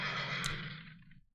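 A horse neighing in a brief, breathy whinny that fades out after about a second, quiet and heard alone.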